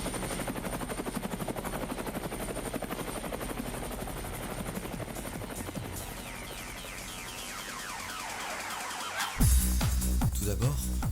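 A military helicopter's rotor chop thuds steadily in the distance, layered with dense rumbling noise that swells suddenly loud near the end.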